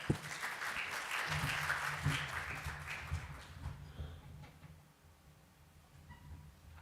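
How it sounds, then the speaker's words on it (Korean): A faint burst of audience applause at a digital economy forum welcoming a speaker, clapping swelling briefly then fading out to quiet room tone after a few seconds. "큰 박수로 환영해 주시길 바랍니다"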